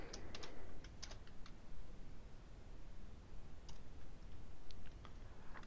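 Computer keyboard typing at a tech talk, with soft, quick key clicks in small irregular bursts over a steady background hiss, faint and close, with no speech.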